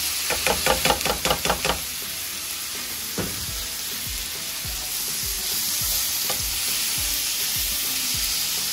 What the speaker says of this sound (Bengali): এটা আমি আজকে করলা দিয়ে ভাজি করতেছি।